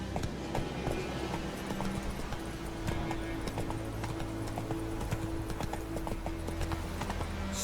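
Geralt's horse Roach gallops in The Witcher 3, hooves pounding in a fast, even rhythm over a dense, continuous game soundscape with faint low hum throughout.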